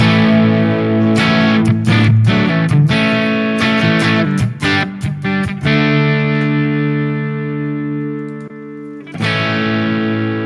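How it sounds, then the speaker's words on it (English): An electric guitar plays a crunchy overdriven tone through a Marshall Plexi amp model on a Sonicake Matribox 2 Pro, with strummed chords and choppy stabs that ring out, then a final struck chord. "let's check out maybe the Marshalls, which is what many people may use for crunch tones. Classic Plexi."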